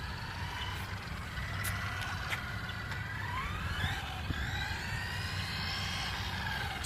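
A WLToys A959 electric RC car driving at about half throttle. Its motor whine rises and falls in pitch as it speeds up and slows, with a steady rumbling hiss of tires underneath and no talking.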